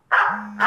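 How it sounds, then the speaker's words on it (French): A mobile phone ringtone of recorded dog barks plays as two sharp, close barks, the first drawn out into a short whine, with a brief spoken sound nearby. "Moi, la sonnerie de mon téléphone portable, c'est les aboiements de chiens."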